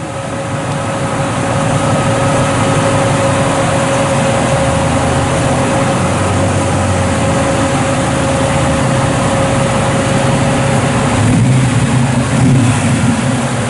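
A 1967 Chevrolet Chevelle Malibu resto-mod with dual exhaust idles steadily nearby, a continuous, even engine rumble holding level without revving for the whole stretch.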